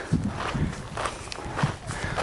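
Footsteps crunch along a hiking trail near a swampy stretch, a steady walking rhythm of several close, moderately loud steps with no talking.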